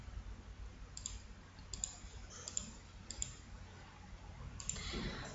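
Computer mouse clicking, a handful of sharp, faint clicks spaced irregularly over a low hiss in a quiet room.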